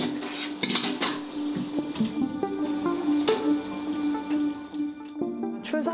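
Water runs from a tap into a sink while dishes clink and clatter now and then, close by.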